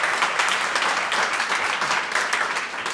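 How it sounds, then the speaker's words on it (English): Audience applause fills a ceremony honoring hospital physicians, nurses and staff, a dense, steady wash of many hands clapping close and loud for the whole stretch, with no talk over it. "Let's just give another round of applause for everybody."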